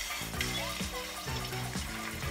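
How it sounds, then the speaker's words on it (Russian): Lamb and beef sizzle steadily in a hot pan with potatoes, a continuous frying hiss under a faint tonal background. "Мясо тоже жарим, как картошку."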